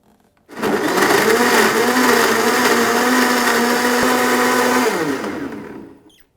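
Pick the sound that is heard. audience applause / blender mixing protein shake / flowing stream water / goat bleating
blender mixing protein shake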